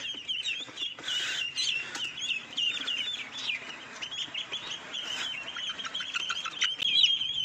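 White silkie chickens on a village farm being herded into a pen give a steady stream of clucks and high chirping calls, fairly close and continuous, with no voices over them.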